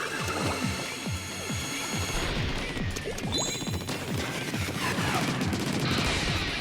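Rapid weapon fire in the video game Splatoon, a fast stream of sharp, tightly spaced shots and splattering hits rattling on without pause, loud and busy with crashing impacts layered throughout.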